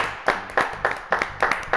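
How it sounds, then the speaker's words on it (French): A small studio audience claps for a live singer, a light, fairly rhythmic clapping in short bursts over a soft low music bed. "Oui, on l'applaudit, Rémi, quand même."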